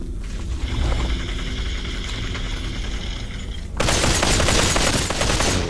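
Rapid gunfire in the VR battle royale game Population: One, a dense continuous burst of shots that grows louder and harsher near the end, with no voices.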